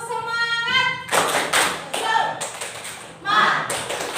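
Schoolchildren in a classroom clap a rhythmic spirit clap in bursts, sharp hand claps and taps mixed with a voice and chatter between the rounds.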